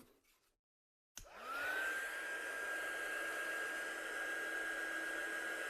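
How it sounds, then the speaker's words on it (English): A heat gun switches on after a moment of silence and blows steadily to dry ink on handmade stamped cards, a loud, even whooshing roar with a rising whine that holds close and alone to the end. "I'm just going to give that a quick blast with a heat gun now to dry off"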